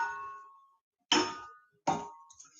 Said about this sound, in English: We can actually hear that chime a bit as well.